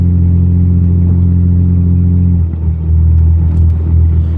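Loud, steady idle of a 1997 Toyota Camry XLE V6 engine, a deep droning rumble that shifts pitch slightly partway through, close by with no voices.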